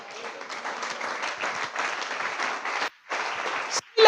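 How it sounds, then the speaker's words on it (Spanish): A church congregation applauding, steady clapping from many hands with a brief pause near the end before it resumes. "Denle un aplauso a Él."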